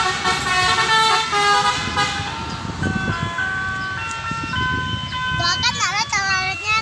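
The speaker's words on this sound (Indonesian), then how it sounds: "Tidak lupa dengan teloletnya." A bus telolet horn plays a loud, bright, warbling multi-note melody as the bus pulls out of the Bareh Solok terminal, repeating its tune over engine rumble and background voices.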